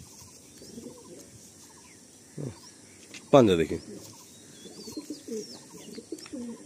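Small compact-size pigeons kept for sale coo softly in the background while someone speaks nearby, with one louder burst of cooing or wing noise partway through.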